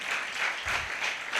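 Brief burst of audience applause during a Christmas sermon, a short spell of clapping from the congregation that swells and fades quickly, with no talk over it.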